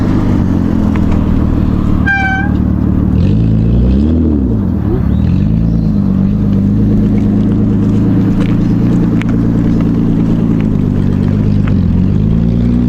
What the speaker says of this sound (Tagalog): ganda ng tunog ng makina guys dahil sa tabutso